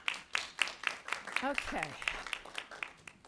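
An audience at a school board meeting claps in a steady run of sharp, rhythmic hand claps, with a brief spoken word heard over it.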